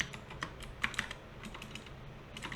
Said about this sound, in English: I'm going to type in underscore